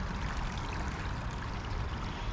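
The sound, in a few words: water trickling in a stream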